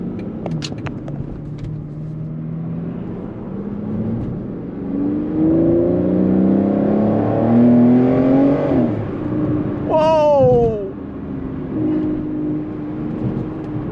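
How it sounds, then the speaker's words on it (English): A V12 car engine revs and accelerates from inside the cabin, rising smooth tone swelling in the middle with a brief higher whine near the end, steady and close. "listen to that V12."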